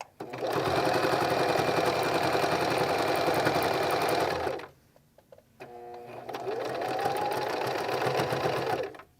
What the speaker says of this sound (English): And you want to sew all the way around your waistband.